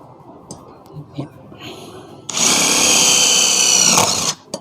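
Quiet handling noises and faint speech give way to a loud, whirring DeWalt DCF801 impact screwdriver driving a self-drilling screw, running steadily for about two seconds before stopping.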